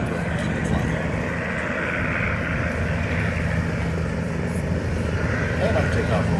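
A B-17 bomber's piston engines drone steadily through its takeoff roll at an air show. The roar is broad and continuous, and an announcer talks over it.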